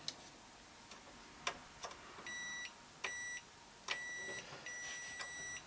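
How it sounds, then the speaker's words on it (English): A multimeter in continuity mode on a fuse, giving several short electronic beeps, some clipped and some longer held tones, with faint clicks in between, close and fairly quiet with no talk. "to go to the beeper mode, or continuity mode"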